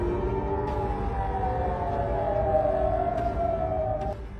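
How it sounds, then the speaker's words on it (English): An air raid siren in Israel wails steadily, a sustained rising and falling tone heard from a distance over a low background rumble. "Sirens continue to sound across northern and southern Israel."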